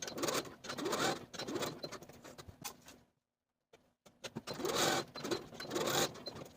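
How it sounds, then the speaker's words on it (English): Home sewing machine running a long basting stitch along the top of a garment sleeve between notches, a steady mechanical whir in two runs split by a short pause. "sew basting stitches along the top of the sleeve from notch to notch, using the longest stitch on your machine"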